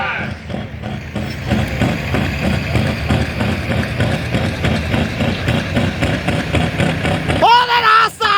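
A 1950 GMC diesel truck weighing about 8,000 pounds, an open Super Stock four-wheel-drive entry, rumbles loud and steady at a pulling event, its engine note continuous and near before a brief rising rev near the end.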